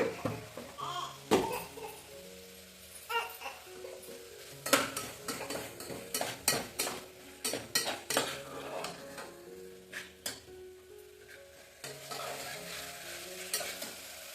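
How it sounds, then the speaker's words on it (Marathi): Tomatoes with salt are stir-fried in a pan, a soft sizzle under repeated clinks and scrapes of a spoon against the metal, irregular and close, continuing in bursts throughout. "आता टोमॅटो सॉफ्ट व्हायचंपर्यंत परतून घ्यायचं"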